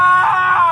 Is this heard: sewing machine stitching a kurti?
no